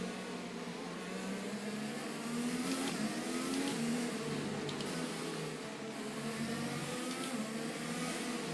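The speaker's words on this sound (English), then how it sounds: "Safety car is going so slow." Safety car engine in F1 2020 racing game, a steady mid-pitched drone whose tone rises and dips slightly as it cruises slowly, with no voices.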